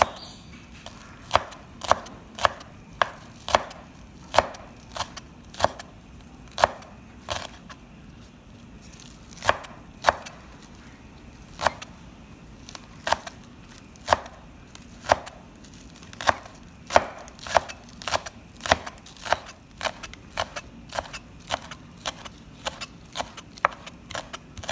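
A knife slices spring onions finely on a cutting board, giving close, crisp chops in a steady rhythm of roughly one to two strokes per second with occasional short pauses.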